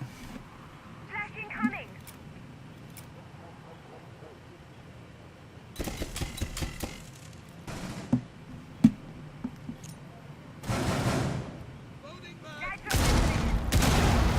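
Gunfire in a Rainbow Six Siege match: bursts of automatic shots and sharp single cracks, some close and loud, some farther off, coming in irregular clusters with quieter gaps between them.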